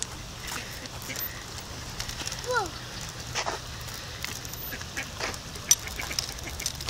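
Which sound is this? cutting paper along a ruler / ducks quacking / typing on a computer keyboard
ducks quacking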